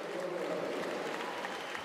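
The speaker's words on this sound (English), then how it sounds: "Russian crowd trying to lift KOLTUNOVA and GONCHAROVA again." A Russian crowd at a women's 10m synchro diving final in Kazan applauds steadily, a dense even wash of clapping heard from a distance without pauses.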